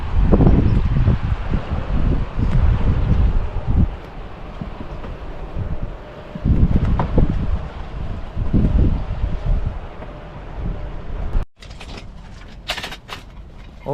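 Strong wind blows outdoors in broadband gusts that swell and ease for most of the stretch, loud and close against the microphone, dropping to quieter rustling near the end.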